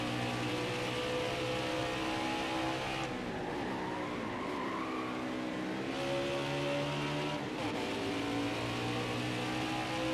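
Race car engine in NASCAR Heat 5 at Watkins Glen, a loud sustained high-revving drone that shifts pitch through gear changes and corners, with tire skids and squeal mixed in and no talk.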